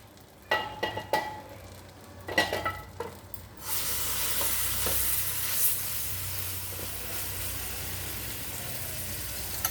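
Palm fruit batter drops into a hot pan with a few clatters and scrapes, then a steady loud sizzle of frying takes over and continues evenly.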